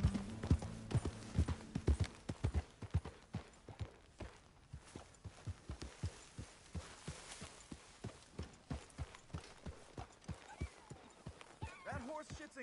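Horse hooves clip-clopping in the Red Dead Redemption 2 video game, a steady walking rhythm of distinct close hoof strikes continuing throughout, with a brief neigh-like sound near the end.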